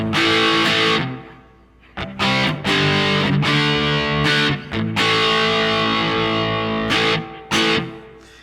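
Electric guitar run through a Maxon SD-9 Sonic Distortion pedal at light gain, with loud, close distorted chords rung out and restruck in bursts, no voices.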